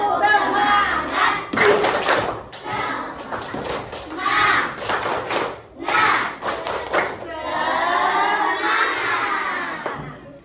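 A class of fifth-grade children performs a rhythmic clapping chant, bursts of claps and shouted syllables alternating in a lively pattern, loud and close, ending in a longer cheer.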